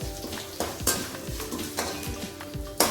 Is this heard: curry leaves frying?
yes